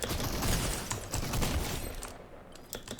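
Rapid bursts of gunfire crackle in quick succession, dense and loud, then thin out into a few scattered shots.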